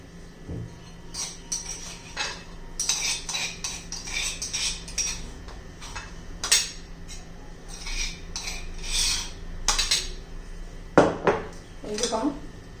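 Boiled potatoes being crushed and mixed in a bowl with garlic and green chillies for a Maharashtrian potato thecha: repeated close scraping, clinking and pounding of a utensil against a dish, in uneven bursts, with no talk.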